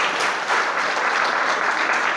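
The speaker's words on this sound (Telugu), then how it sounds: "గట్టి క్లాప్స్ కొట్టండి సార్ వాళ్ళకి." A school audience at a Zilla Parishad high school in Indiranagar claps in dense, sustained applause, loud and continuous for the full two seconds.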